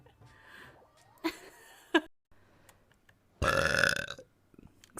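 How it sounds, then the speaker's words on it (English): A streamer's loud, rough burp bursts out alone near the end, after a couple of short clicks and mouth noises in an otherwise quiet room. "I do burp a lot."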